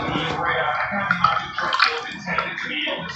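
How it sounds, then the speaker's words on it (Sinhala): Milk poured into a batter for hoppers: a soft, splashy liquid trickle and gurgle that runs close and continuous for a few seconds, with faint handling sounds. "අපි දැන් කිරි ටික එකතු කරමු."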